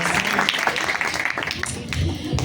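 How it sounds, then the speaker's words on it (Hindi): A church congregation gives loud applause in thanks to God at a Christmas service, a dense, continuous wash of clapping with voices mixed in. "जोरदार तालियों से खुदावंद की शुक्रगुजारी करें"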